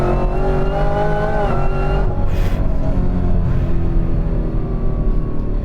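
A 1000 hp Exorcist Camaro ZL1 accelerates hard with a loud, continuous engine roar, its pitch climbing through the gears and dipping briefly at a shift, heard close from inside the car.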